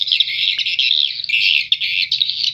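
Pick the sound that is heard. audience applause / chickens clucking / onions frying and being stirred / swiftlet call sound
swiftlet call sound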